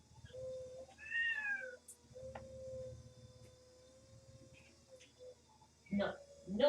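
A domestic cat meows several times, rising and falling cries at close range, while a person talks softly over a low background hum.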